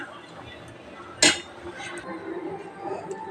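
Pots and utensils clank while cooked rice is drained in a home kitchen, a single sharp metallic clink standing out amid low background clatter and faint room noise.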